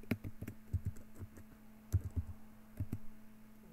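Computer keyboard keys clicking in short irregular bursts while a password is typed, close and fairly quiet with brief pauses between strokes, no one speaking.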